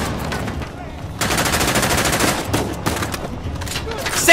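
Gunfire from the video game Uncharted: The Lost Legacy: dense, rapid automatic bursts with sharp single shots mixed in. It runs loud and nearly continuous, with brief dips between volleys.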